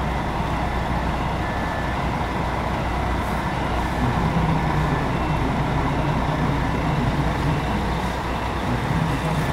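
Steady engine rumble from a Águia Branca bus pulling out of the garage for cleaning, a continuous idling and rolling drone with faint traffic around it, no voices.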